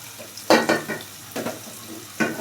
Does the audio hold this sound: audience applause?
no